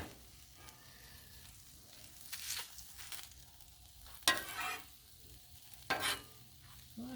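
Food slides across ghee on a Blackstone griddle, with quiet sizzling broken by three or four loud bursts of hissing and scraping as pieces are pushed around.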